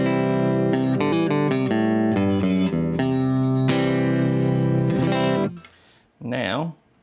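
Dry electric guitar on the neck pickup through a Strymon Iridium amp modeler, clear ringing notes and chords played loud and close, then fading out, followed by a short bending phrase.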